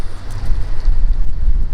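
Wind blowing across a hillside draw on Kansas public land, a loud rumbling buffet that shakes the microphone with low gusty thumps, no voices over it.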